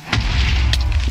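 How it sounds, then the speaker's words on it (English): A loud, deep booming rumble with crackling bursts on top, a video game explosion rolling on for about a second. "What is going on with the cow explosions?"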